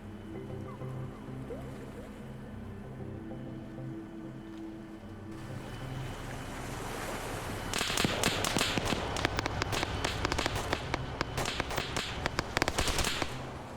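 Gunfire in the military shooter Arma 3 during a coastal firefight: dense bursts of sharp cracks and pops erupt midway, rapid and clustered, over a low rumbling, wind-and-water-like ambience.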